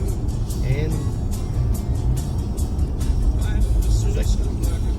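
A car engine fitted with a Barton shifter rumbles and pulls through gear changes at about 35 mph, a steady mid-loud drone with rhythmic clicks and road noise, while someone talks over it.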